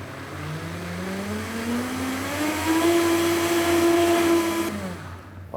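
A kitchen blender purees hot soup into a smooth velouté, a loud continuous whir whose pitch rises as it spins up and holds steady before cutting off abruptly near the end.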